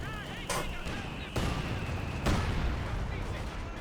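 In Company of Heroes 2, an AVRE petard mortar blasts out as three heavy booms land about a second apart over a constant rumble of battle noise.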